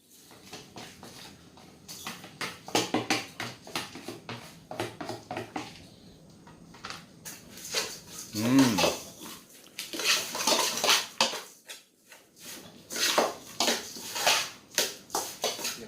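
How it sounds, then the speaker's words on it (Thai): Ingredients and metal utensils clatter into a cooking pot while a herbal fermented sauce is being mixed, with bursts of clinking and scraping spread across the stretch, some loud, some pausing briefly. "เอาลงหม้อเลยต้น"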